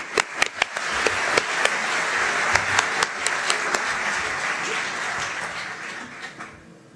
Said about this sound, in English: a big round of applause for all our sponsors